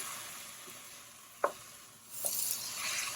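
Rinsed rice sautéing in a pan for a vegan spinach rice dish, a quiet frying hiss with a couple of brief scrapes of stirring, the sizzle swelling louder near the end.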